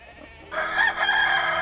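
A rooster crows once, loud and close, after a brief quiet moment, the call rising and holding with a harsh, bright tone.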